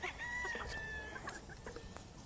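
Proven laying hens of a Cam-Cam line clucking and calling in a backyard flock, a drawn-out crow-like call followed by short scattered clucks, moderately close and fairly faint overall.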